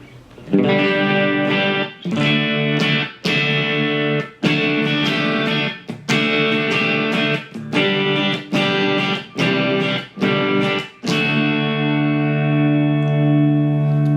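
Electric guitar through an overdrive pedal, used for church playing, strums a steady series of driven chords, each ringing briefly before the next stroke, with a longer sustained chord at the end and no talking.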